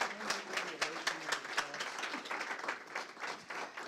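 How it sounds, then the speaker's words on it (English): Applause from an audience at an MLK honoring event, a steady patter of many hands clapping at moderate, fairly close level with no talk over it. "Let's give her another round of applause, please."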